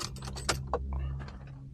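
Set of keys for a 2024 Suzuki Jimny 5-door GL manual jingling up close in several quick bright shakes over a low steady hum, with no talking.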